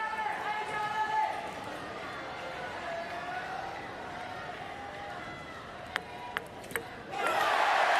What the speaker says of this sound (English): French crowd just going berserk.